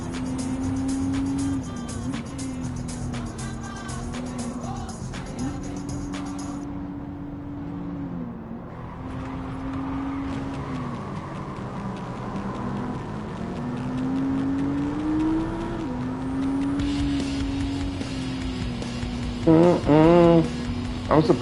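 Race car engine in the Gran Turismo 7 video game, a steady droning note that rises and falls as the car accelerates and slows, continuous throughout, with a few sharp electronic chirps near the end.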